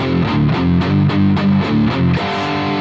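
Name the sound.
guitar through Boss GT1000 dirty amp, A channel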